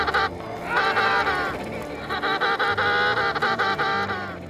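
An emperor penguin mother that has lost her chicks calls out in loud, harsh, goose-like honking cries, repeated in long wavering bursts with brief pauses. No one speaks.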